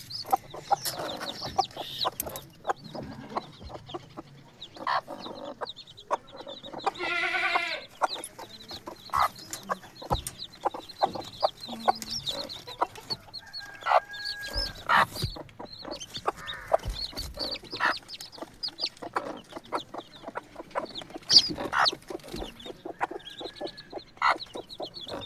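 A brooding hen with her chicks, repeated close clucking and low churring calls scattered irregularly throughout, mixed with rustling, thin peeps and a few sharper squawks.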